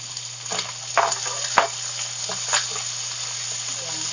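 Canned mushrooms added to a hot pan for an omelette: steady close frying sizzle with a few soft scrapes and taps of a utensil stirring, under a faint background hum.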